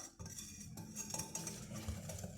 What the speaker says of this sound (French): On va bien mélanger jusqu'à ce que l'appareil soit homogène et lisse